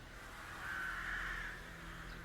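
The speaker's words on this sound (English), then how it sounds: "Man, those birds are terrible. It sounds like we're being attacked by them." A crow gives one drawn-out, rasping caw that swells and fades over a low steady hum during a Dungeons & Dragons live-play session, moderately faint and with no voices over it.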